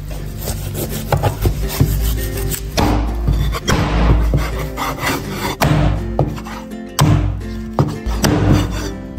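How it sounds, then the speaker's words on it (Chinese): A heavy cleaver chops pork ribs on a wooden board again and again at an uneven pace, close and sharp, with scraping between blows. "先把排骨剁一下"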